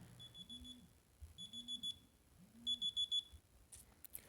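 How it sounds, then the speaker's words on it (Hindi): An alarm clock beeps in three repeated bursts of rapid electronic tones, each a quick series of beeps, fairly faint with a low hum beneath. "तो जो अलार्म था वो बज गया था"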